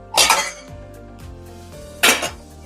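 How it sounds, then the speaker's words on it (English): A metal pot lid is grabbed in a home kitchen, giving two bright, ringing clanks about two seconds apart, each one loud and close and trailing off into a faint metallic hum. "I'm also going to grab the lid for that."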